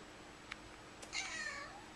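A single drawn-out cat meow, fairly soft, preceded by a couple of faint clicks in an otherwise quiet room.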